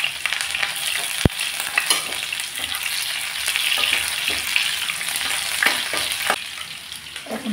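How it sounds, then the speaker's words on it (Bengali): Chopped onion and nigella seeds fry in hot oil with a steady loud sizzle, broken by occasional spoon scrapes and stirring clatter, no voices. "দিয়ে দিচ্ছি কালো জিরা ফোড়ন, পেঁয়াজ কুচি দিয়ে দিলাম একটা"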